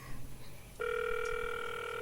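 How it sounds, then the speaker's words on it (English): Telephone ringing on an outgoing call: after a moment of quiet, a clear steady electronic ring tone starts and holds, fairly faint and alone. "It's ringing."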